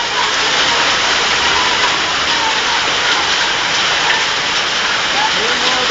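Hail pelts a roof in Novaliches, a dense, loud, unbroken clatter and hiss that stays constant throughout, with no talk.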